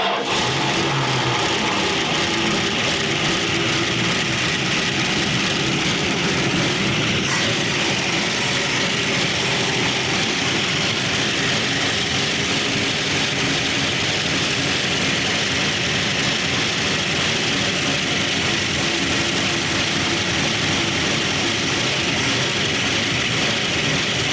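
A 1970 Dodge Charger V8, run after sitting for 20 years, keeps up a loud, rough, continuous idle with a deep rumble close by and no voices.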